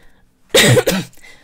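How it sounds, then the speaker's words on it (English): A single sharp cough, a quick double burst, close and loud against a quiet background. "Sorry, I'm coughing."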